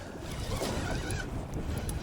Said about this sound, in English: it is windy, really windy